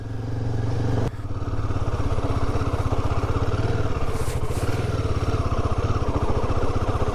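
A Royal Enfield Himalayan 450 motorcycle rides along with a loud, close, steady engine drone and a pulsing exhaust beat, plus a brief clatter near the start.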